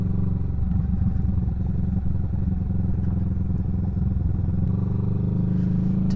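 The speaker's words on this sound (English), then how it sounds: "Turns out we've got dirt bikes." Dirt bikes ride along a gravel track on an old railway line, steady loud engine drone with rough, clattering texture throughout and no pause.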